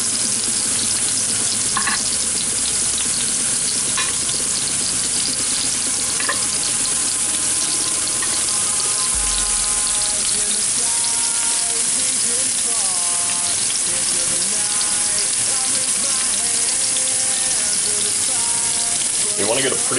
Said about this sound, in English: You want to get a pretty good sear on them, just all the way around, lock in the juices.